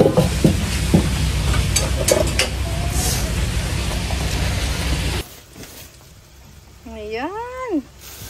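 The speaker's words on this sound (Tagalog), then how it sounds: "Hugasan natin ang talangka." Small mud crabs are rinsed in water, a loud splashing, sloshing wash with clattering shells for several seconds, then quieter, followed by a voice talking briefly at the end.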